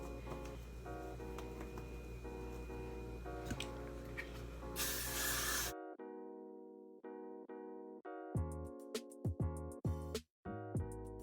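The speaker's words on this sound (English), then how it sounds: "I'm gonna spray this all the way down." One short, loud hiss of a hair product spray burst under steady background sound, followed by quieter music-like tones.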